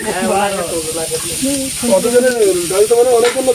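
Food sizzles steadily in a pan as an older man cooks a meal for twenty to twenty-five people at a dried-fish processing camp, with voices talking over the frying throughout.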